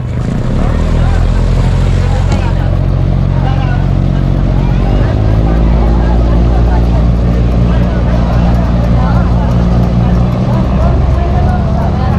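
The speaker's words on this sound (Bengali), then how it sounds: "এখান থেকে বোট ছাড়ছে, বড় ছোট সব রকমের বোটই আছে" Motorboats, large and small, pull away from the jetty at Somnath with a loud, steady engine drone, while a crowd murmurs in the background.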